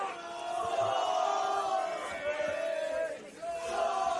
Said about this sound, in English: the crowd's going berserk.